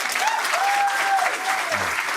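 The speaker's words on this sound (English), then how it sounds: "give her a round of applause." A room of attendees at a trading event kickoff clapping together, a dense, even burst of applause lasting a couple of seconds, with a faint tone running underneath.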